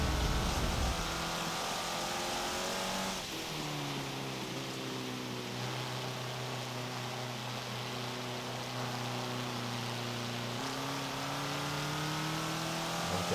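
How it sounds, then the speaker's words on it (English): A race car engine in Forza Motorsport 7 drones steadily while accelerating, its tones stepping up through gear changes around a circuit, loud and continuous with no one speaking. "I'm already trying to accelerate the car."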